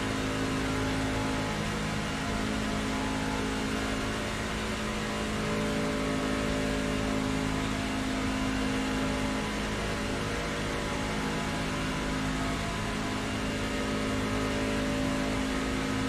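A race truck's engine in the iRacing simulator drones steadily at high revs, a continuous mid-pitched roar with no voices over it.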